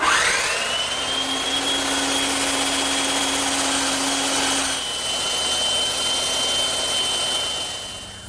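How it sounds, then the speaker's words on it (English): Bandsaw cutting wood freehand while building an English garden bench, a loud steady whine with a high tone and a lower hum that stops after about five seconds, then motor noise running on. "So I'm just going to take my time back at the bandsaw."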